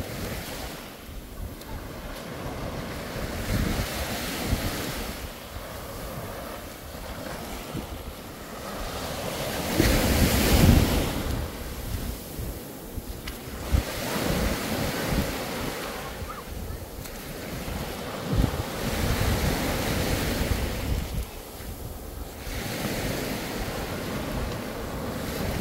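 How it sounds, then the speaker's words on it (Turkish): Sea waves break and wash ashore at a bay beach in Datça, surging in repeated swells with a loud crash near the middle, while wind buffets the microphone and no one speaks. "Şöyle sizi dalgalarla, dalganın sesini baş başa bırakayım."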